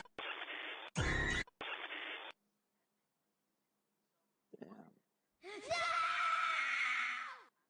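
Darwin from The Amazing World of Gumball screams in The Grieving.exe game, in loud harsh bursts separated by near silence, with a longer sustained shriek at the end.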